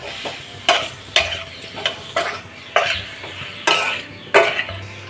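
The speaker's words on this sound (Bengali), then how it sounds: "এবার ভালো করে সব মশলাগুলো দিয়ে দিয়েছি কষিয়ে নেব" Spices and masala with potatoes sauté in a pan for veg biryani, a utensil scraping and stirring in regular strokes about every half second over a continuous sizzle, close and fairly loud.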